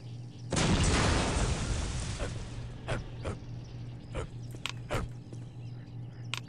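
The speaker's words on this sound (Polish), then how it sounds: "Jak oni nagrywali szczekanie w tej grze?" Dog barking in the video game Postal 2, a few sharp barks after a loud booming burst, over steady game background hum and some muffled noise.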